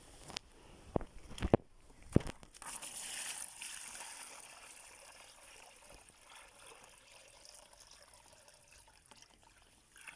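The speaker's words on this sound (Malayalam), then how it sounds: "ഇതിൽ വെള്ളം ഒഴിച്ചു കൊടുക്കാൻ പോകാം കേട്ടോ" Water being poured into a guppy fish tank, a soft steady trickle and splash following a few sharp knocks, fairly faint and close, with no talk.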